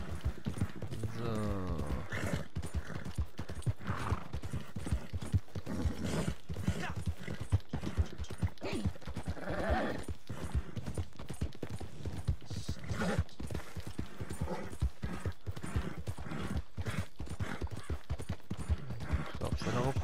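Horse hooves clip-clop steadily in Red Dead Redemption 2 Online, a brisk continuous rhythm of close, sharp hoofbeats with someone speaking German over them.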